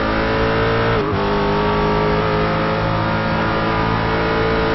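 Race car on the Watkins Glen road course, a loud sustained engine roar filling the clip, with a brief dip as it passes the line before the strong drone continues.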